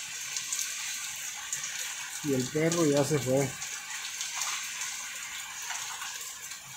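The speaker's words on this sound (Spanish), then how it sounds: "y ya empezó a llover más" Light rain falling at night outdoors, a steady broad hiss of water running off and dripping, with someone speaking briefly partway through.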